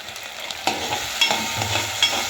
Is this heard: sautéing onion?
yes